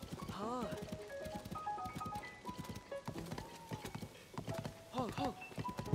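Horse hooves clip-clopping in the video game Zelda: Tears of the Kingdom, a quick rhythmic trot under melodic game music, with a person talking over it.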